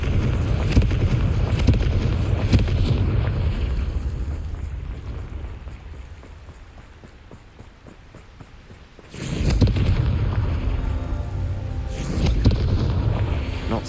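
A Confringo blasting spell explodes in Hogwarts Legacy: deep, rumbling booms with a roaring, wind-like blast, loud throughout, easing off midway before surging again in two heavy bursts.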